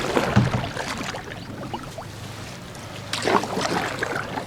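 Solo paddling of a canoe on a quiet lake, with soft paddle strokes and water swishes near the boat, a louder splash at the start and another toward the end over faint wind.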